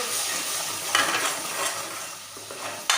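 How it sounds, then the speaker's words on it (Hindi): Spices frying in a pan with garlic and ginger for an Indian egg curry, a steady broad sizzle with a few sharp stirring scrapes, close and alone. "लहसुन अदरक को फ्राई करके और इसमें हम मसाले डाल देंगे।"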